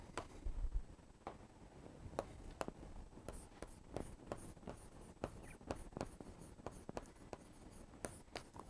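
Pen writing on paper during an accounting lesson, with scattered light scratches and taps of strokes at a steady, irregular rhythm, quiet and close, with no talking.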